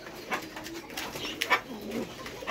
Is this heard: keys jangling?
no